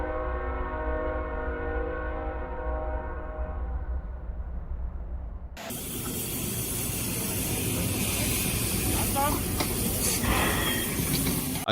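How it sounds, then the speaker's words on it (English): A classic steam locomotive working as a recovery unit hauls a wrecked vehicle off a railway line: a sustained whistle-like tone holds for several seconds, then gives way abruptly to loud, continuous steam hiss and heavy rumble. "A classic steam engine acts as a recovery unit, pulling a wrecked vehicle from the line with pure, old-fashioned strength"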